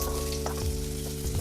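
Onion sizzles in hot oil in a kadhai for chole masala, giving a close, continuous crackling fry with a couple of soft stirring scrapes.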